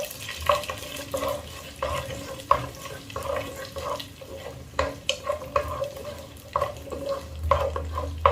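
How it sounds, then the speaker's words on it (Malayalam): Shallots are stirred in hot oil in a pan for a Kerala-style chicken curry. Steady sizzling and frying run under repeated close scrapes and knocks of the spoon, with no talking. "കൊച്ചുള്ളി ഒന്ന് ഇളക്കി യോജിപ്പിച്ച് കൊടുക്കുകയാണ്"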